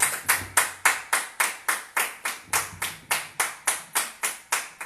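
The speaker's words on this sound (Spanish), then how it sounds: "Dale un aplauso porque Él es nuestro abogado" A church congregation applauding: steady, rhythmic clapping at about three beats a second, sharp and evenly spaced, like one near pair of hands keeping time, with no voices over it.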